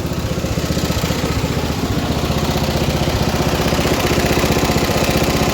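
A roughly 50-year-old vintage MTD ride-on lawn mower engine that burns oil runs loud and close, holding a steady, throbbing, rapid-pulse idle throughout without any talking.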